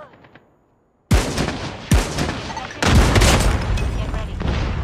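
XPR-50 sniper rifle fire in Call of Duty Mobile: after a near-silent moment, two loud, sharp booming shots about a second apart, then a denser burst of heavy gunfire and rumbling combat noise that carries on to the end.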